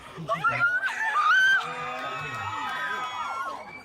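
An audience at a musical curtain call screams and cheers, with shrill high screams rising over a crowd roar that settles into steady cheering and laughter.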